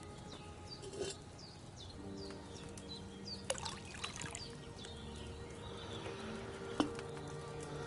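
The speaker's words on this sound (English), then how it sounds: "you have to pour the right base into the cauldron" Wine poured into an alchemy cauldron in the medieval game Kingdom Come: Deliverance II, a faint, steady trickle set against quiet outdoor ambience with chirping birds and insects.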